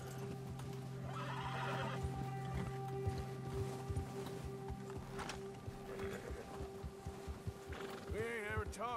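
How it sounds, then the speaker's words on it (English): Frightened horse in Red Dead Redemption 2 neighing and whinnying nervously, with clip-clop hooves and a low game ambience throughout, the whinny rising loudest near the end. "Eso ha asustado tu caballo. Cuando hay un depredador cerca, los caballos se ponen nerviosos."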